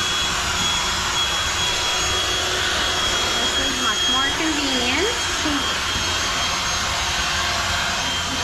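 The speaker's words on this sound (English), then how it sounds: "which then we drag the vacuum." A Black & Decker AdvancedClean cordless handheld vacuum runs with a steady, loud whine and broadband rush throughout, its pitch wavering briefly midway while a person talks over it.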